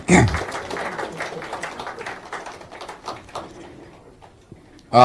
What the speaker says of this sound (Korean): 박수 쳐주시겠습니까?